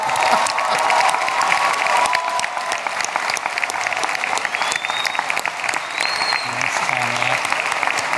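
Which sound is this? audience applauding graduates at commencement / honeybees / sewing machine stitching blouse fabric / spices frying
audience applauding graduates at commencement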